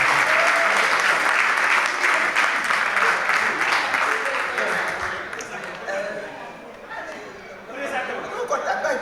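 Sustained applause from a theatre audience for the actors at a premiere, loud and dense at first, thinning slightly then swelling again, with chatter mixed in.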